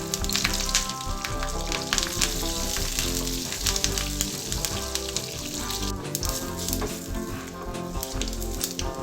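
A tempering of garlic, dried red chillies, curry leaves and seasoning seeds frying in hot oil for gongura chutney: loud, busy crackling and spitting with sharp pops, close and continuous.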